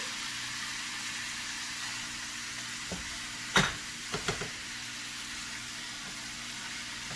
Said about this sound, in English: now I'm going to put again my about a pound of meat in here